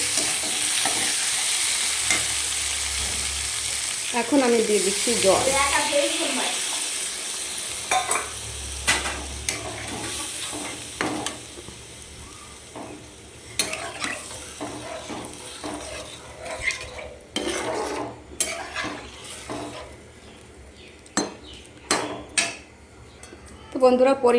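Fish and poppy seeds are being stirred and fried in a pan. A spatula scrapes and clinks against the metal in bursts over a soft sizzle, and there are brief pauses and a few louder knocks near the end.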